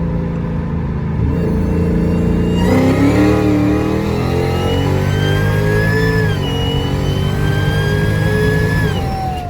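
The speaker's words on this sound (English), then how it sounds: "we're gonna try a third gear pull" Hellgato car engine in a hard third-gear pull, a loud close roar rising steadily in pitch as it accelerates, with rumbling exhaust under a climbing whine.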